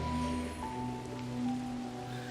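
Steady rain falls in a continuous, even hiss, with a faint tonal hum underneath and no voices.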